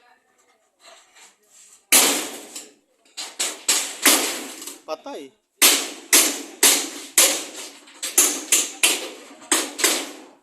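Hammer blows ring out while galvanized iron roofing sheets go on, a series of loud sharp metallic strikes in an uneven rhythm after a brief pause, with a voice speaking at the start.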